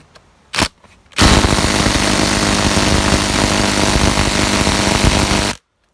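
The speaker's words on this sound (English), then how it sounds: "Let's see if I can shoot this screw in any more." A Fein ASCD18-200W4 cordless impact driver rattles loudly and close as it drives a screw, a dense hammering burst of about four seconds. A couple of short knocks come first, and the sound cuts off abruptly at the end.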